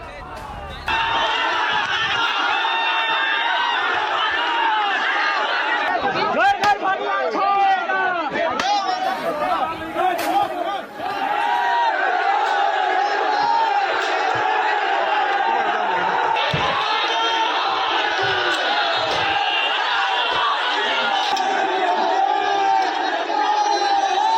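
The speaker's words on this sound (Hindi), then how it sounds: "लाठी डंडों से लैस भीड़ मकबरे की तरफ बढ़ गई और फिर पुलिस की मौजूदगी में जमकर उत्पात मचाया" A large rioting crowd armed with sticks advances on a tomb in Fatehpur, a dense, loud wall of shouting and chatter with rising battle cries and whoops. The din stays continuous and close throughout.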